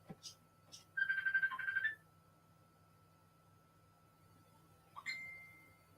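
A phone rings with an incoming Messenger call, a short electronic ringtone burst followed later by a second tone, faint and indoors with a low steady hum and no talk over it.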